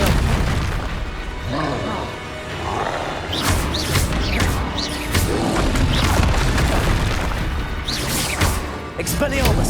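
Confringo spell explosions in the video game Hogwarts Legacy go off as a steady barrage of booming blasts and crackling bursts, loud and dense, over a busy background of combat noise.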